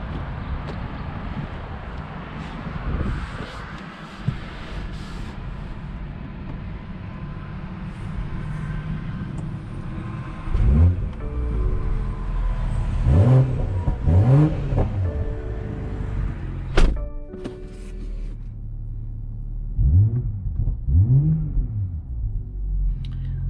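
A 2021 BMW M440i convertible drives with a steady engine rumble, then revs hard several times with rising and falling pitch sweeps, loud and close, with wind noise and no talking.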